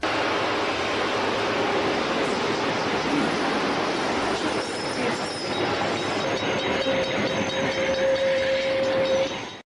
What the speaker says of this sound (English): the commuter train has managed to brake hard enough to come to a complete stop right in the nick of time